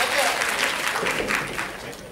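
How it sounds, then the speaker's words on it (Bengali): An audience at an annual music college cultural programme on stage in Baharampur applauds a young performer, a dense burst of clapping that swells and then slowly fades over a couple of seconds. "ওর জন্য একটা জোরে হাততালি"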